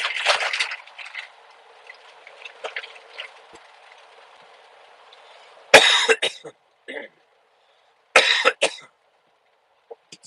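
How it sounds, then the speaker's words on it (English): Loud, close coughing bursts from a person inside a vehicle during a drive on a clear, dry winter road, several harsh fits in sequence over a steady low engine hum, with quieter gaps between them. "Sorry if that coughing is really loud."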